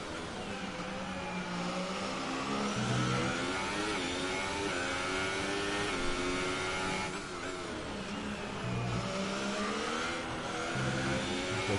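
A racing car engine in a video game revs and drops in pitch as the driver downshifts to second gear, a sustained mid-range growl with shifting harmonic sweeps and brief dips between gears.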